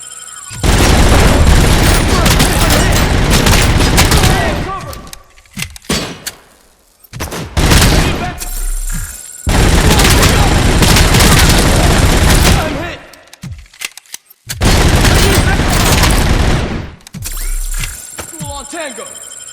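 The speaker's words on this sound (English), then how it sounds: "Suppressing fire!" Suppressing gunfire in RoboCop 2: Unfinished Business: three long, loud sustained bursts of rapid automatic fire with booming impacts, separated by brief gaps with scattered single shots.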